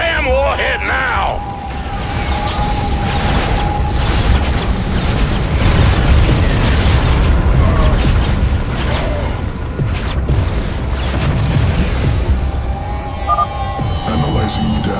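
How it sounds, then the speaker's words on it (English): In StarCraft II: Heart of the Swarm, an experimental warhead fires and detonates. Heavy mechanical clanks and rattling come with booming, crashing blasts, loud and dense across the whole stretch, and a faint tone hums underneath. "Fire the damn warhead now!"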